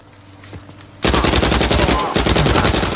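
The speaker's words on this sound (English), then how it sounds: "Shooting me with your cheesy ass pistol, bro." Gunfire from the PS4 game Uncharted 4: A Thief's End bursts in loud and close after a quiet second, a dense run of rapid shots that continues to the end.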